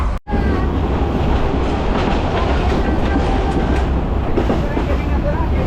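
A moving passenger train running from Rangpur toward Gaibandha, recorded on board: a loud, steady rumble of wheels and carriage with a faint clickety-clack throughout.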